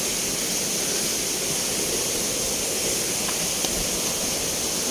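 The Kimatahay waterfall in Lilingayon roars as a steady, dense wash of falling water, loud and unbroken throughout, with no voices heard.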